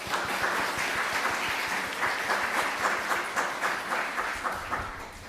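A church congregation applauding during a Sunday worship service, steady sustained clapping from many hands filling the sanctuary for several seconds before beginning to taper.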